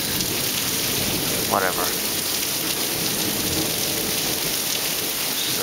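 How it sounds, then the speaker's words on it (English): Steady, heavy rain pours during a severe thunderstorm, a dense, loud hiss filling the whole stretch, with a person's brief voice cutting in once. "severe thunderstorm going on"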